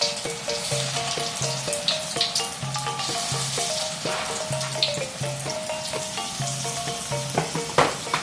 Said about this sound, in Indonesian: Kita masukkan adonan kita.